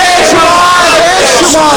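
A large crowd at a Pakistani political rally in Chicago chants a slogan in reply to the stage, a loud, sustained mass of voices shouting together in unison.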